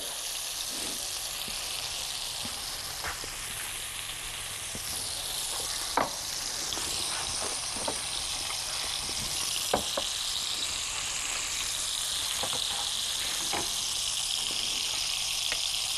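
Minced meat kofta balls frying in a pan give a steady, close sizzle throughout, broken by occasional pops and crackles.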